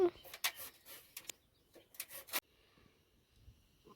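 Cassava (tapioca) root slices through a handheld slicer for homemade chips, several quick rasping scrapes in a cluster over the first couple of seconds, close, then near quiet.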